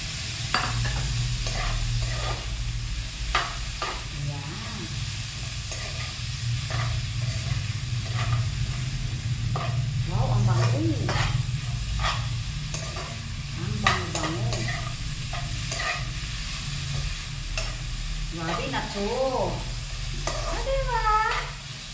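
Pancit canton vegetable mix stir-fried over high heat, a steady sizzle with repeated scraping and clattering stir strokes throughout, close and fairly loud, with some whining background noise.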